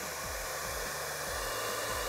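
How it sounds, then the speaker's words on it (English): A hair dryer shooting ping pong balls blows with a constant loud whooshing roar, with a faint low pulsing repeating underneath. "So we have our hairdryer shooting out the ping pong balls now."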